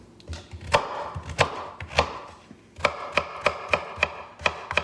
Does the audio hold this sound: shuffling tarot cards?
no